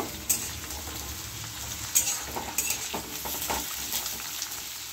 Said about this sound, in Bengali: আলুগুলো একটু ভেজে নেব, হালকা করে ভেজে নেব